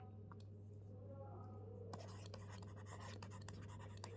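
Marker or chalk writing on a board during a biology lesson, a series of quick scratchy strokes and taps that start midway over a constant low electrical hum, with faint speech in the background.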